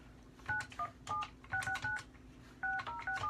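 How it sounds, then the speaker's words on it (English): A telephone dials a cell phone number during cold calls, producing a series of short, clear touch-tone beeps in quick uneven groups, with faint background hum. "All right, there's a cell phone. I'm just gonna call the cell phone."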